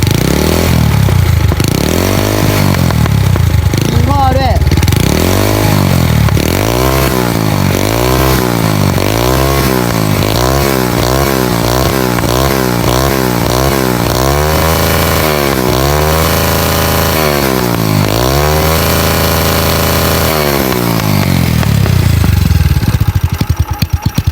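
A Honda Wave 125S motorcycle with a straight-through exhaust is revved again and again, with loud, crackling, piercing exhaust bursts rising and falling in a steady series of throttle blips.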